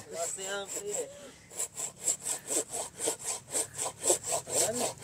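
A hand saw rasps back and forth through a tree branch in a fast, steady rhythm of about a dozen strokes, close by, after a brief murmur of voice.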